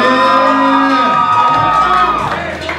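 A concert crowd in Berlin cheers and shouts loudly and steadily after a rapper calls for noise from the stage, with whoops and sustained crowd roar filling the whole stretch.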